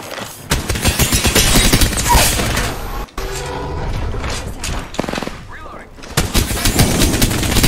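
Rapid bursts of gunfire and fusillade-like shots fill most of the stretch, loud and dense, broken by a brief gap near the middle, with talk mixed in among the shots.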